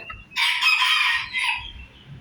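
A bantam rooster gives a single close, shrill crow lasting over a second, rising and then trailing off, with quiet surroundings.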